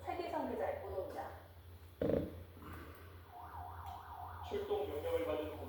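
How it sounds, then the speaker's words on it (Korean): An ambulance on an emergency call drives with its siren wailing, a faint rising and falling tone heard under a steady voice. "출동 명령을 받은 구급차가 사이렌을 울리며 달립니다."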